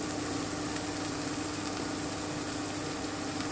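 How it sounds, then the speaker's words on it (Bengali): Green chilies frying lightly in a pan, a steady continuous sizzle with an even crackling hiss throughout, close and moderately loud, with no talking. "আমি হালকা ফ্রাই করব, খুব বেশি না। কাঁচা লঙ্কাটা দিয়ে দিলাম।"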